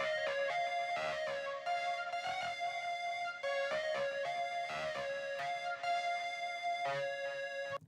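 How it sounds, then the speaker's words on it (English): A half-broken 80s Yamaha portasynth keyboard fed through a Dirty Little Secret overdrive and digital distortion pedals plays buzzy, harmonically rich sustained notes and chords in a steady rhythmic pattern, loud and unaccompanied by talk. "I actually ran this keyboard through my guitar pedal board. So I think that one's using a Dirty Little Secret overdrive, and could be like digital distortion."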